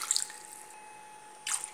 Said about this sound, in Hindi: तो इसमें मैं 5 गिलास पानी डाल रही हूँ